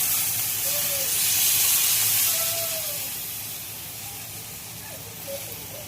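Water poured into a hot pan holding cinnamon, cloves and cardamom for zucchini paneer pulao, giving a loud, sustained hissing steam and sizzle that swells early and then slowly fades, with no talk.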